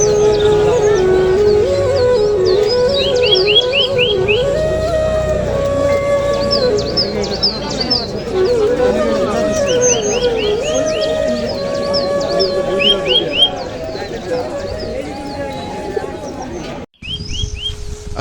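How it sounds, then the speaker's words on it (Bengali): Pigeons at a market, cooing and warbling calls repeating through the stretch amid a busy backdrop with other bird chirps, fairly close and prominent. "এই যে পায়রা, এখন দেখি কথা বলে।"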